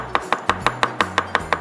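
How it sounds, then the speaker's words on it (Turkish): A chef's knife chops food on a cutting board in a quick, even rhythm of nine or so sharp, close knocks, with no voices over it. "bunu böyle halka halka doğramak çok zor olacaktır"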